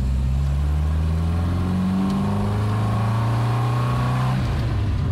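A Volvo 121 with a B20 engine drones steadily through a test drive, its pitch climbing gradually as it revs, then easing off near the end; no voices.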